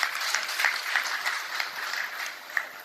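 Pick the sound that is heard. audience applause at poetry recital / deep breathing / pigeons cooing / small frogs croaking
audience applause at poetry recital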